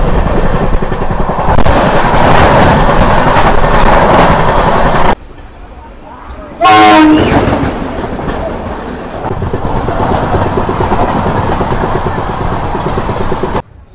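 An Intercity express train from Tirupati to Coimbatore runs at speed with loud continuous wheel rumble and clatter, broken by a sharp, very loud horn blast midway before the running noise resumes.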